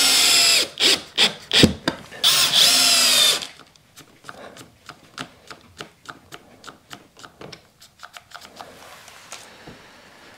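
Cordless screwdriver driving screws into wood while fitting out a bathroom in a bus converted into a tiny house: loud whirring bursts at first, then a quieter run of rapid clicking ratchet pulses, with no talk.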